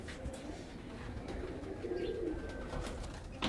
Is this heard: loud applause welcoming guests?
no